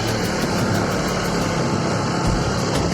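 A motorcycle engine runs continuously on a rough, broken hill road near Madanpokhara, Palpa, a loud steady rumble with road noise filling the whole stretch and no talking.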